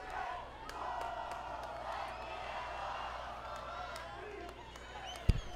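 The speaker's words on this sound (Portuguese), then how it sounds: "E a torcida do SESI fazendo barulho ali, tá parecendo estádio de futebol" Supporters of the SESI team cheering and shouting together in a swimming pool arena during a national championship final, a steady distant crowd roar with voices mixed in and a sharp knock near the end.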